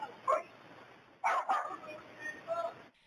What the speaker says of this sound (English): They're heard again over the sound of barking dogs.